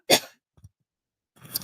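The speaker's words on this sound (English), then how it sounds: "had to cough" A single sharp cough from a person crafting a card at a desk close to the microphone, a loud burst followed by faint rustles and then another noisy scrape near the end.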